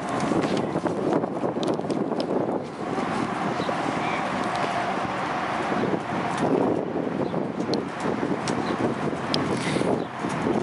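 An older, calm Western-broke horse walks along outdoors, its hooves clip-clopping in a steady rhythm under gusting wind noise on the microphone.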